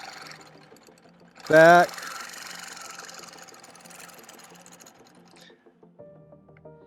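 A longarm quilting machine stitches in the ditch of a guitar quilt, a brief loud mechanical burst followed by a steady low motor hum while a person talks over it.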